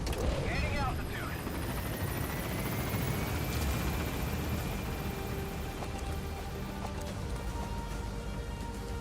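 Helicopter lifting off in the video game Metal Gear Solid V, a dense, steady rotor roar with a rising whine at the start, continuous and loud, with a voice heard briefly.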